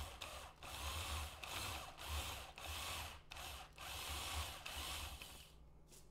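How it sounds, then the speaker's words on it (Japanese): A power drill bores out the wheel post of a 1/24 plastic model kit of a Skyline 2000GT-R in repeated loud bursts of whirring, with short pauses between each run. "これをドリルでこうどんどんどんどん削っていって"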